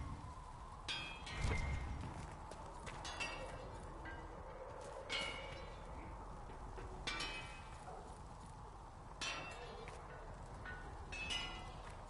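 Horse hooves clip-clop at a steady, unhurried pace in the fantasy game Dragon Age Inquisition. The faint, evenly spaced hoofbeats sit under a soft ambient bed, with hints of distant voices.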